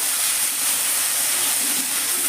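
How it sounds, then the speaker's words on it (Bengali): Ginger, cumin, garlic and green chilli paste hits browned frying onions with a loud, even, hissing sizzle that holds steady throughout, close and unbroken. "এবার আমি দিয়ে দিচ্ছি আদা, জিরে, রসুন, কাঁচা লঙ্কা বাটা"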